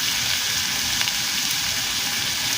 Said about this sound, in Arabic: افضل بقى اشوح في البصل كده